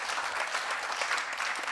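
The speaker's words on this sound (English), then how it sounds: "Let's have a round of applause for all of our speakers." An audience at a CyberGIS panel session applauds the speakers, a brief, dense burst of clapping at moderate volume.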